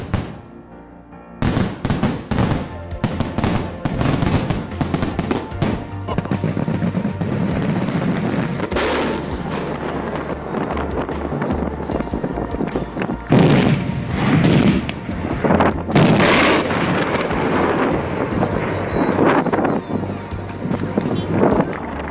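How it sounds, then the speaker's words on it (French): Daytime fireworks over Doha's modern art museum in Qatar: a long, dense run of loud booming bursts and crackling reports, near and continuous, with heavier thumps swelling in the middle and toward the end. "Superbe feu d'artifice de jour au musée d'art moderne de Doha, au Qatar"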